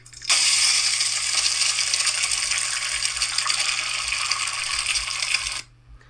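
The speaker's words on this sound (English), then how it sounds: "That was an egg frying." Steady loud sizzling crackle, like an egg frying in a hot pan, running continuously for several seconds before stopping abruptly.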